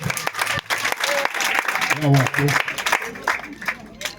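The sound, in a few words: audience applauding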